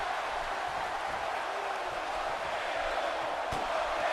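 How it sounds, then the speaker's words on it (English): Steady crowd roar from a WWE 2K wrestling match with a hardcore champion in the ring, a continuous broad wash of cheering that stays loud from start to finish, with one sharp impact near the end. "Crowd still cheering for the hardcore champion as he feels the power of the crowd."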